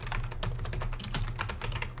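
Rapid keystrokes clatter on a computer keyboard as a folder name is typed, close and crisp in quick uneven bursts for a couple of seconds.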